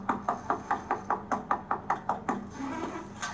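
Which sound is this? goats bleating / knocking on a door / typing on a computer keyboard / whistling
knocking on a door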